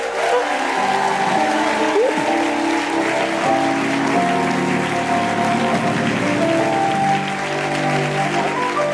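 Church congregation applauding and cheering, sustained loud clapping mixed with voices, shouts and tonal sounds, steady throughout.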